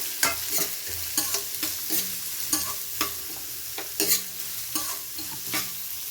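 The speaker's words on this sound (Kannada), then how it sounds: "ಈರುಳ್ಳಿ ಹಾಕ್ಕೊಂಡು ಫ್ರೈ ಮಾಡ್ಕೊಳ್ಳೋಣ." Onions fry in a pan for gobi manchurian, a bright close sizzle punctuated by regular, rhythmic spatula strokes scraping and tapping the pan about once a second, with no voices.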